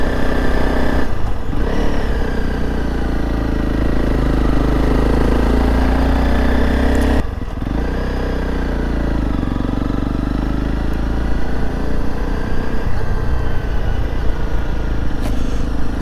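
A motorcycle ridden along a moorland road on a group festival ride, its engine note droning loud and continuous close by, with wind rushing and a couple of brief dips in the sound.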